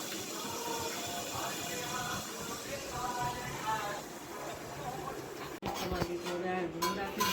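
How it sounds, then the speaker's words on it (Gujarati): Potatoes go into a home kitchen pan for Gujarati tempering, bringing faint clinks and scrapes of pots and utensils under low domestic background, with a sharper sizzle-like burst and clatter near the end; some speech mixes in. "જો બટેકા નાખી દીધા એમાં વઘાર કરવા માટે"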